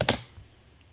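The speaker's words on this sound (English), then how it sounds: "Oh, I heard typing." A brief burst of keyboard typing, a couple of quick clicks at the start and then fading into quiet room noise.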